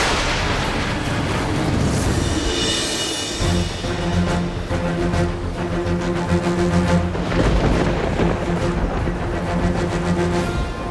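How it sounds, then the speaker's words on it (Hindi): A superhero TV series plays a sustained explosion blast effect, with deep rumbling booms and bursts rolling on for several seconds over a thick, dramatic bed of sound. "मगर इस बार मैं ऐसा धमाका करूंगी कि वो दोबारा उठ नहीं पाएगा।"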